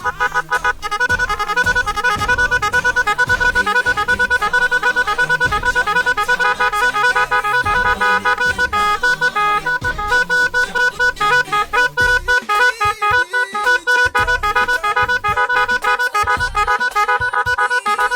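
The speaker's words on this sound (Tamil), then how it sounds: "ஹார்னோட அவுட்புட் இந்த மாதிரி தான் இருக்கும்" A 22-tone magic horn for bikes and cars blares loud and close, cycling through a long run of shifting electronic tones and melodic honks with no pauses.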